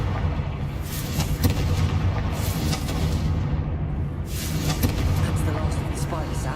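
The Confringo blasting spell goes off in Hogwarts Legacy, a loud, steady wash of booming, crackling blast noise with a sharper burst near the end.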